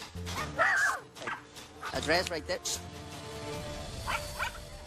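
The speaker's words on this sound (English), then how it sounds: "I want the barking dog right here" A dog gives a few yips and whimpering barks, close but mixed in with people talking over a noisy background.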